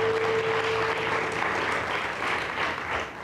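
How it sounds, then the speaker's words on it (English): Audience applause at the City of Boston scholarship ceremony, dense steady clapping from a large crowd filling the hall, sustained and loud throughout without pause. "So we should give them a big round of applause for our speakers."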